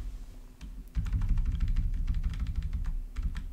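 Rapid, steady typing on a computer keyboard as a name is entered, with close, crisp keystrokes in an irregular run over a low background hum.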